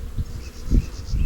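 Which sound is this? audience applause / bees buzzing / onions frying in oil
bees buzzing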